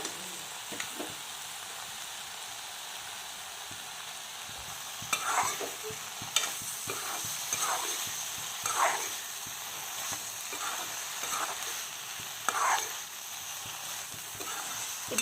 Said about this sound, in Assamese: ইয়াত আমি অলপ কেঁচা পিঁয়াজ আৰু আদা নহৰু আকৌ দি পেলাই অলপ লৰাই দিম